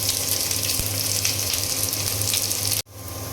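Chopped onion and garlic, with a dried red chilli, frying in hot oil for a lentil dal tempering; a steady, loud, close sizzle runs on without a break, then cuts off sharply near the end and comes back.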